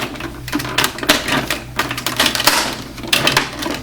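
Plastic parts of a Thunderzord toy snap and click shut, a quick run of sharp, close clicks and clacks in irregular bursts, with no talk.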